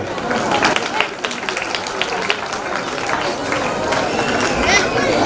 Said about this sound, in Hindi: उस प्रसाद के विषय में सोचते हुए तालियां बजाइए।